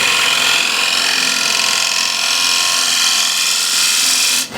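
Shear scraper held on its side cuts a big wooden platter spinning on a lathe, making a loud, continuous scraping hiss that runs evenly and dips briefly at the end.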